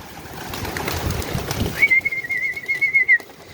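A pigeon's soft cooing call rises over faint outdoor background noise, followed by a thin, sustained whistling tone.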